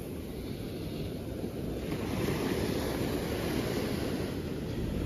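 Calm sea waves wash onto a beach at Mazatlán, where the swell is around 0.7 metres, in a steady broad rush with wind noise across the microphone and no clear breaks between waves.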